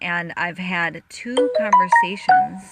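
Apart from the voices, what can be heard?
mobile phone ringtone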